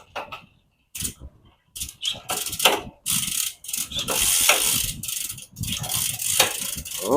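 SUMC flat top chain shifting across an 11-speed bicycle drivetrain, rapid ratcheting and clicking in close bursts as the cranks turn, with short silent gaps between runs and no talking.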